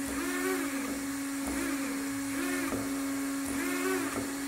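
Racerstar 3650 brushless motor, 2050 KV, with its ESC, whining steadily at high speed under throttle, a loud close tonal hum with rhythmic pitch swells rising and falling about once a second, no talk.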